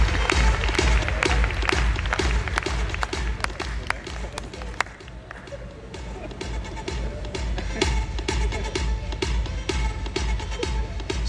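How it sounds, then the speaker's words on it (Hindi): Audience applause at a distributors' meeting in a convention center, a sustained bed of clapping with sharp individual claps standing out and crowd noise underneath, lasting the whole stretch. "एक जोरदार तालियां अगर आपको सही लगा उनकी रिसर्च के ऊपर"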